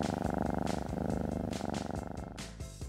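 A cartoon kitten purring steadily and close up, a continuous rhythmic rumble with soft pulsing beats over about three seconds, with no talking.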